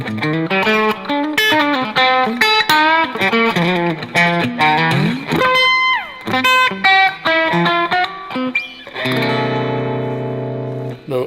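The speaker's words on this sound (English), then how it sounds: "let's listen to the bridge pickup as a single coil" Electric guitar played through a bright, twangy single-coil bridge pickup with slight distortion and reverb, sounding somewhat like a Telecaster, a run of picked notes ending on a ringing chord.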